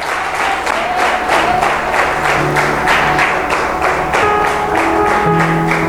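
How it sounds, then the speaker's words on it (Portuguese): Loud, steady applause from a large church congregation fills the whole stretch, dense and continuous, with a faint musical tone sustained beneath it. "Forte salve de palmas para Jesus então, se você crê"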